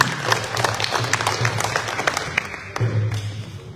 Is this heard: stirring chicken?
no